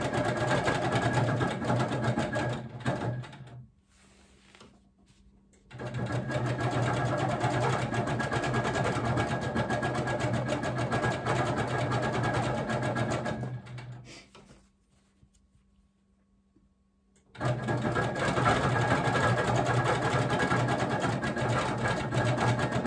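A longarm quilting machine stitches steadily around a diamond shape drawn on ice-dyed fabric, with a continuous motor and needle hum that stops twice for a few seconds, then resumes, close and fairly loud.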